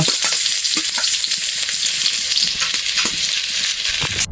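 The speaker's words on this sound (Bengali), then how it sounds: "সর্ষার তেল দিয়ে দিল এখন দিয়ে দিয়েছে পেঁয়াজ রসুন তারপর হচ্ছে এটা তেজপাতা" Onion, garlic and bay leaf fry in mustard oil in a pan, giving a steady, close, loud sizzle with a few light clinks of stirring and no voices.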